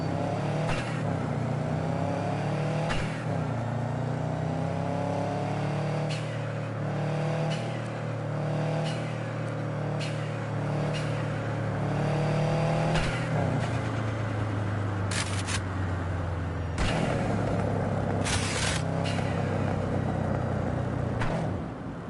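Car engine in a Night City video game, a steady low hum with rising and falling revs while driving, broken by sharp clicks and bursts of game effects.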